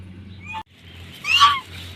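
Farm hens let out a brief call, then a louder squawking burst a second later over a steady low hum of background noise.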